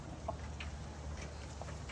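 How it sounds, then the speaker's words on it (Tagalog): Chickens on a small farm cluck softly and sporadically over a steady low background hum, with a few short calls rising above the murmur. "Munting tahanan ng mga manok"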